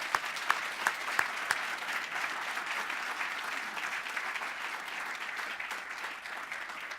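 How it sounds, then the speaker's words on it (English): Audience applause at a diversity and equity awards ceremony, a sustained roomful of clapping with a few sharp nearby claps standing out early, continuing steadily throughout. "Please give them one more round of applause."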